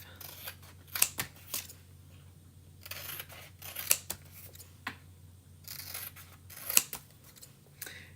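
Scissors snip paper around dragonfly shapes for a chalk art project, with a few sharp, close cuts spread out amid quiet rustling and faint handling noise.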